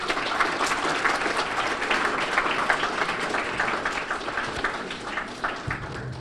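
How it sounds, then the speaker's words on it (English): Sustained applause from an audience honoring students who spoke at a summer youth employment program event, steady dense clapping filling the room at a moderate level without talk. "let's give them a really, really big round of applause."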